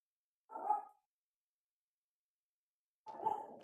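A dog barks indoors in two separate short, moderately loud barks with silence between them, apart from any speech.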